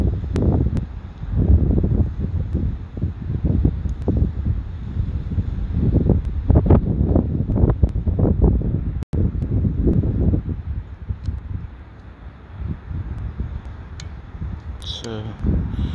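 Strong wind gusts buffet an outdoor microphone in early February in Ohio, producing loud, rumbling low roars that swell and fade continuously, with a voice speaking beneath it at times.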